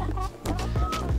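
A few short clucking calls from a young rooster (cockerel) on a farm, close by, in quick bursts over about a second.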